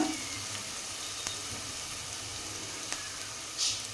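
Onions fry steadily in a pan for kaju paneer masala, a continuous close hiss of sizzling oil with a few faint clicks and no talking.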